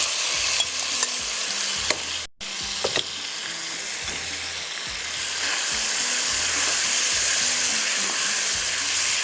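Chicken frying in butter with garlic, sizzling steadily in a pan while a utensil stirs and scrapes with repeated clinks throughout, close and fairly loud.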